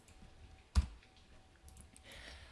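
A single sharp computer mouse click stands out against quiet background noise, followed by a few faint soft ticks and no speech.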